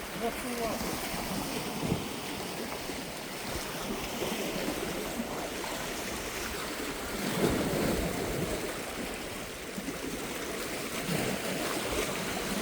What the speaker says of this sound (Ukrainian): Хвиля така хороша. Мора хвилюється.